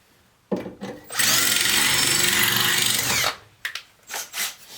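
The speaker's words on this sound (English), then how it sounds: "So I'm going to use a 1/8 drill bit. I'm going to drill" A 1/8 inch bit bores pilot holes while rewiring a vehicle, the power drill whining loudly and steadily for about two seconds after short handling noises, then stopping, followed by scattered clatter.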